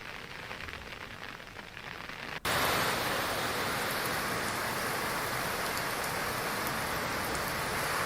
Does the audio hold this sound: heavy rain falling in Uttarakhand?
yes